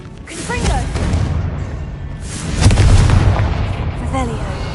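Confringo blasting spells explode in Hogwarts Legacy, with two loud, booming bursts, one near the start and a heavier one midway, each trailing off into a rumbling tail.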